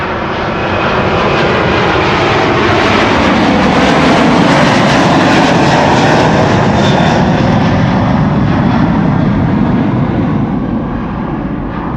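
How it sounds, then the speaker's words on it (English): A wide-body jet departs runway 24 at Amsterdam Schiphol with a loud, sustained engine roar that fills the whole stretch, its tone slowly shifting as the aircraft climbs away. "to me this sounded like a louder departure than the previous departures from wide bodies have been"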